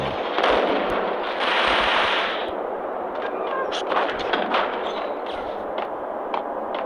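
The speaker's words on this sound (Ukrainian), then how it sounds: "Ми вистрілюємо патрони в 5 разів швидше, чим то потрібно." Gunfire from dual Ingram guns in the video game Max Payne, a dense rattling stream of rapid shots that rises loud at first and continues steadily under ongoing game noise.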